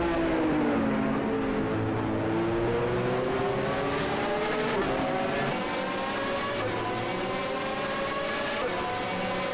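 A race car engine in the SRO Super GT500 racing game at Fuji, loud and steady throughout, with the revving pitch sweeping up and down as the car accelerates and shifts.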